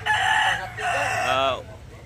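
A large White Kelso rooster, about 2.5 kilos, crows once, loud and close, a long strained call that trails off, with low background hum throughout.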